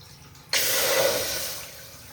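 Water gushes abruptly into a deep cooking pot for rasgulla syrup, a sudden loud, broad pouring rush that starts mid-clip and slowly tapers as the pot fills.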